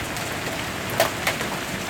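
Pea-sized hail falls during a storm in a dense, steady patter of small tinking impacts on surfaces, with a couple of sharper nearby hits and no voices.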